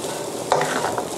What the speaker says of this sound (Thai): ผัดไปอีกสักพักนึงคลุกให้เข้ากัน